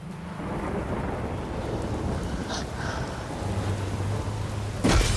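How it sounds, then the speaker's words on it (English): Thunderstorm with steady rain in The Witcher 3: Wild Hunt, a continuous wash of rainfall with a low rumble of thunder building and a sharper crack near the end, no talking. "A storm, damn it."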